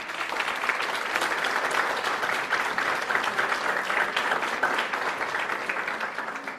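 A church congregation claps steadily for the Lord, a continuous, moderately loud burst of many hands that carries through the whole stretch without fading.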